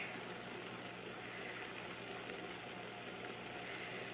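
Shrimp bisque with oyster sauce added boils and sizzles steadily in a pot, a continuous bubbling hiss at even loudness throughout, with no talking.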